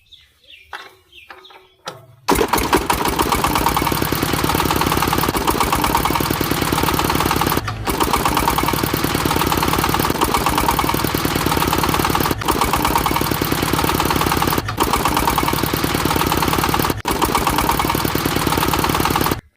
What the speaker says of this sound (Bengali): মেশিন একাই স্টার্ট হয়ে যাচ্ছে, বুঝলাম না কিছু।